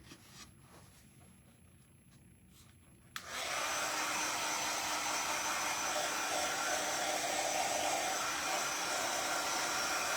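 Quiet rustling gives way to a hair dryer switching on and blowing in a loud, steady roar at close range, drying fresh paint on a green wooden birdhouse.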